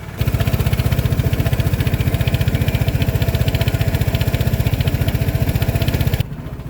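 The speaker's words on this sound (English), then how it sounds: "start the engine for 1 minute" A 2018 Vespa GTS 300 scooter engine idles steadily and close by with an even, fast putter, then cuts out abruptly near the end.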